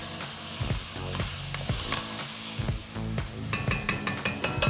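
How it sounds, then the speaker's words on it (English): Chopped celery and onion sizzle steadily in a hot pan for vegan collard green gumbo, a dense crackling hiss broken by regular clacks and scrapes of stirring. "I'm just gonna cook this just for a little bit, just until those vegetables are nice and translucent."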